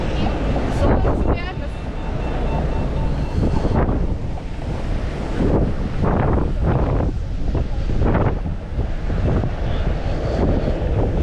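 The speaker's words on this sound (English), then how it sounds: "It's pretty windy." Heavy wind buffets a GoPro microphone during a walk around Potsdam, Germany, a loud continuous roaring rumble with gusty surges throughout, with indistinct voices underneath.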